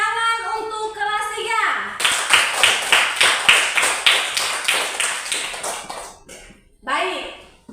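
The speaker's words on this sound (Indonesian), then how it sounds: "Tepuk tangan untuk kelas" A classroom of schoolchildren does a rhythmic group clap, a series of sharp, evenly spaced claps lasting several seconds, preceded and followed by kids' voices chanting and talking.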